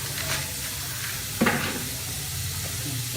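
Garlic and chopped onion sauté with salt in a pan for an egg curry, making a soft continuous sizzle with brief stirring scrapes and one louder clatter partway through.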